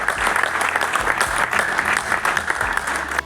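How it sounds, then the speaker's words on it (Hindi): Theatre festival audience claps loudly for a play's team, a continuous burst of dense applause from a modest crowd filling the space without pause. "पूरी टीम के लिए जोरदार तालियां"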